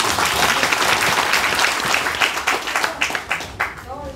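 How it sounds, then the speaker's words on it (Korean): Loud, full audience applause at a Seoul public hearing on a taxi fare increase, a continuous dense clapping that thins toward the end into separate claps, with a faint voice near the close. "여러분 큰 박수"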